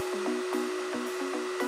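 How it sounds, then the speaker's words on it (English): Hair dryer blowing a steady column of high-speed air that holds a ping pong ball aloft, a continuous close whirring hum with a rising and falling tonal whine over about two seconds. "The wind from the hairdryer is actually creating a column of high-speed air all around the ping pong ball."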